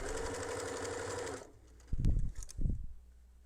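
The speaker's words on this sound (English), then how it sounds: "And I just sew for a couple more inches." A home sewing machine runs a fast, steady stitching whir along a small bag seam for about a second and a half, then stops, leaving a few soft handling bumps and rustles close by.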